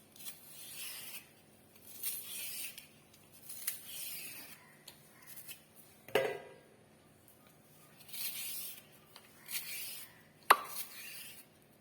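Knife cutting lengthwise through peeled taro stalks, heard as several separate bursts of crisp, slicing strokes with pauses between them, plus a couple of sharp knocks against the board. Close and fairly quiet, with no talking.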